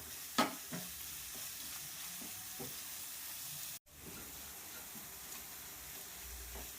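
Masala for squid roast fries quietly in a pan, giving a faint, steady sizzle with a few soft spoon taps and stirs early on and a brief drop-out midway, with no voices.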